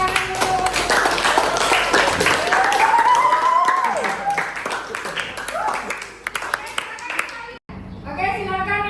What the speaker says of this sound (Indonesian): silakan tepuk tangan dulu.